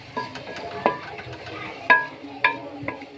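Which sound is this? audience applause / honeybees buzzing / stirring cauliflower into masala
stirring cauliflower into masala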